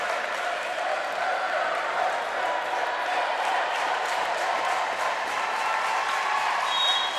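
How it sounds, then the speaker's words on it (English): Crowd at a high school volleyball game cheering and applauding loudly and steadily throughout, a dense wash of clapping and shouting in a packed gym. "Crowd really getting fired up now."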